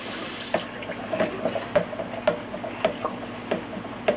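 Lye and water solution is stirred in a container, giving a steady series of light clinking ticks about twice a second over a faint background hum.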